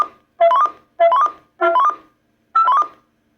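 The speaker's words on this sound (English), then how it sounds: "So there's your little cute Roger beep," Four short electronic roger beep chirps from a President Ronald compact CB radio, each a quick rising two-tone burst, sounding clearly and alone with brief silences between them.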